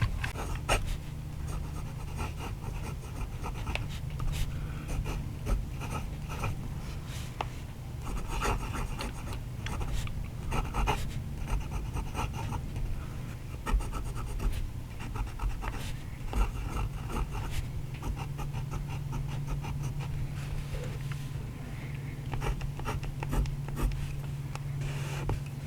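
A Jinhao 100 clear fountain pen with a medium steel nib and dark blue ink writes on paper, giving a continuous close scratching and rasping with short strokes and pauses.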